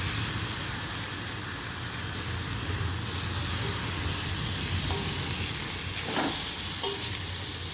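Raw banana fry sautéing with masala in a pan, a steady close sizzle and hiss running throughout, with a few brief scraping stir sounds near the end.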